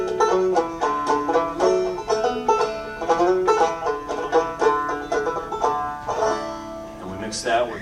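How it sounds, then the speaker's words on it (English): An old-time band plays Stephen Foster's Hard Times Come Again No More in a live radio show setting, with rhythmic strummed and bowed string instruments in a steady, close, full-sounding tune. "So we take that old Stephen Foster song,"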